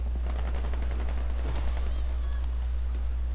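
Rapid, steady automatic gunfire from the video game Warface, a dense stream of close shots under a constant low hum, with no pauses.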